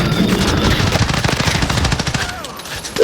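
Rapid, dense gunfire rattles almost nonstop in a Call of Duty Warzone match, including an R9-0 shotgun firing Dragon's Breath rounds, loud and close with bursts piling on each other throughout.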